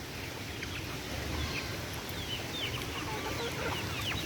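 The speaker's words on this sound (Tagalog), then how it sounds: "Ito guys yung manok natin guys." Chickens on a farm cluck and chatter in scattered bursts, several birds at moderate distance over a steady outdoor background, with no one speaking.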